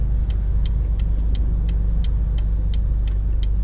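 A Honda Civic race car engine runs loud and close, pulling hard into its VTEC range as a steady, dense roar with a faint, regular ticking over it throughout.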